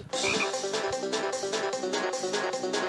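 Video game music with frog croaks from a frog-catching game, a steady busy loop of layered tones and rhythmic croaking played loudly without talk.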